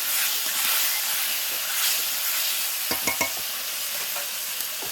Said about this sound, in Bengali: দিয়ে ভালো করে মশলার সঙ্গে কষে নেবো